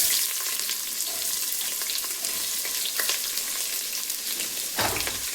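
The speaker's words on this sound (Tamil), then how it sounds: "எண்ணெய் சூடாயிருச்சு, ஆல் ஸ்பைசஸ் போட்டுக்கலாம். இப்போ சின்ன வெங்காயம் சேர்த்துக்கலாம்." Small onions frying in hot coconut oil in a cooker with whole spices, a steady dense sizzle throughout with occasional stirring scrapes and a louder crackle burst near the end, no talking.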